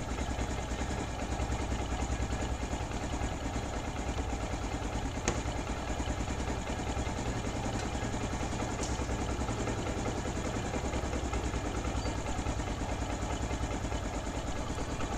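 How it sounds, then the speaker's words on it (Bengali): A tuned TVS Metro Plus motorcycle engine idles steadily nearby with an even, low mechanical thrum that does not change in pitch or loudness. There is no speech. "তো ইঞ্জিনের সাউন্ডটা দেখুন, আপনার কোনো রকমের ঝিরঝিরি সাউন্ড নেই।"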